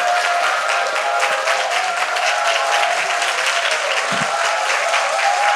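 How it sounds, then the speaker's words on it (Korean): A lecture-hall audience bursts into sustained applause to welcome professor Kim Chang-ok, a thick, even roar of many hands clapping that holds steady throughout. "인생에 조언해 주실 김창옥 교수님 큰 박수로 맞이하겠습니다."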